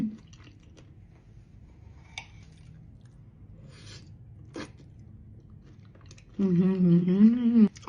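Homemade mochi filled with strawberry and muscat grape is chewed close to the mic, with soft, wet, squishy bites and a few small clicks over several seconds, then a person hums appreciatively at the end.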